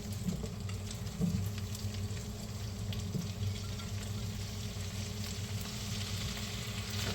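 Cabbage and bacon fry over lower heat in a pan, a soft, continuous sizzle with a low hum beneath and a few faint clicks, steady throughout.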